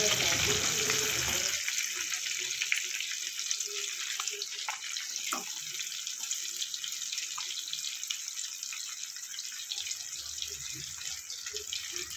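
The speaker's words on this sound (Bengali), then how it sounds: "দুটো বড় বড় পেঁয়াজ এটা ভেজে নেবো" Sliced onions frying in butter in a pan, a steady hiss and sizzle running continuously throughout, with no talking over it.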